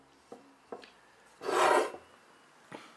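A hand tool rasps across a metal strut bar, smoothing ground-down weld spots: one long, loud scraping stroke stands out between several short, sharp scrapes, close up with no talking.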